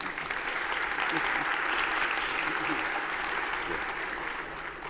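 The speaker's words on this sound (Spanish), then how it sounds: "Un aplauso también." Steady audience applause at the Congreso Futuro 2020 conference, dense and even, many hands clapping at once from a moderate distance, holding constant before easing slightly at the end.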